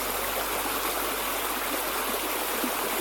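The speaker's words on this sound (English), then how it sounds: "just listen to the river itself" A river flows in a steady, broad rush of water, even and unbroken, close and moderately loud, with no voices or other sounds.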